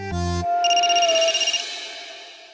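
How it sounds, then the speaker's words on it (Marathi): A phone ringtone chirps loudly and close up, a short electronic melody of bright repeated tones that rings once and then trails off. "आला माझ्या सासूचा फोन"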